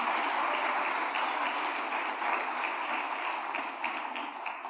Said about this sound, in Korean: 다시 한번 큰절하고 들어갈 때 큰 박수로 축하해 주시기 바랍니다.